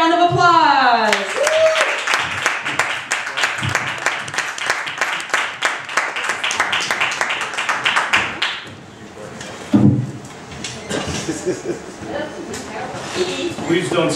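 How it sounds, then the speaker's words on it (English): A theater audience claps in rhythm, a quick run of sharp, even claps up close that thins out and gives way to scattered taps and thumps, while voices carry over the top. "Please give a round of applause."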